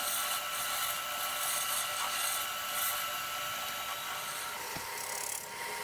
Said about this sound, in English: Just smoothing it down there with the round nose scraper.